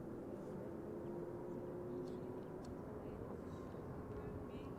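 Aircraft jet engines spool up at Brussels Airport in a low, distant, faint rumble that holds steady, with brief light sounds nearby.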